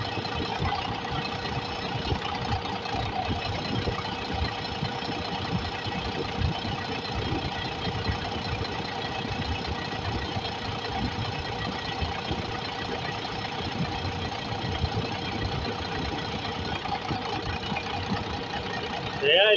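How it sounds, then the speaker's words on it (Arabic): A six-cylinder diesel engine idles on five cylinders with one fuel injector disconnected, steadily for a long stretch with a rough, uneven knocking rhythm, heard close up with a voice talking over it. "صوت المحرك وهو داير وانا حالل الترميله في ايدي اهو وهو داير 5 بس"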